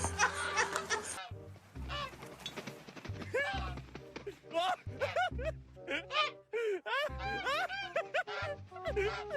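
Geese give repeated loud, nasal honks in rapid, irregular bursts, close by and overlapping one another, with short gaps of quiet between the calls.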